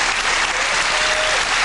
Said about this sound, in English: And the crowd cheering both of these competitors on